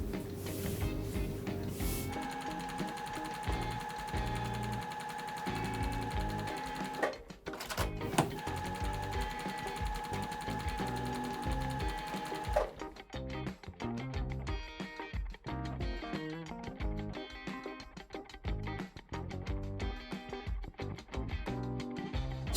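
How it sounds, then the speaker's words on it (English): Sewing machine stitching quilt half-square triangles from pre-cut fabric, running steadily with dense mechanical rattling under a music track, a short pause midway before the stitching resumes. "It's simply sewing now."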